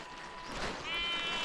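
A goat bleats once, a wavering nasal cry rising out of faint outdoor background noise on a rainy day, fairly close.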